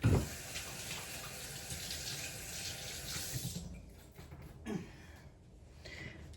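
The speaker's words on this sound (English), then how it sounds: "Let me wash my hands." A kitchen tap runs steadily while hands are washed, water splashing close into the sink, then the flow stops about halfway and a few faint drips and handling sounds follow; no talking.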